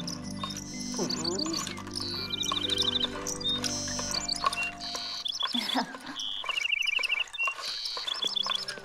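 A nightingale singing in a cartoon, bright chirping trills and repeated rapid phrases, fairly quiet, over a soft musical background.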